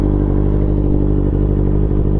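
A motorcycle engine idles steadily and close up after an oil change, a continuous low rumble with faint mechanical clatter and no voices.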